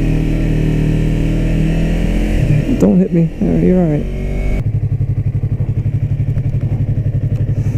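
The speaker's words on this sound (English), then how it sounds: "Ripping around on a motorcycle." A Yamaha R3 motorcycle engine revs nearby, then settles into a steady pulsing idle, while people talk over it.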